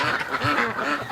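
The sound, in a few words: ducks quacking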